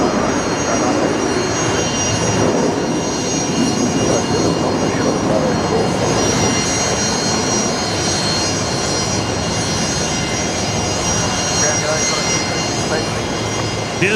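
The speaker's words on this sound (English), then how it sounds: "Beautiful Fokker there, pulling into Bay 50 Alpha." A Fokker airliner taxis into a parking bay at Brisbane Airport at night, its engines a loud, steady broadband whine and roar lasting throughout, with a voice talking over it.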